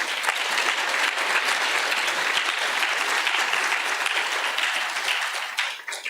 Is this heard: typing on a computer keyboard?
no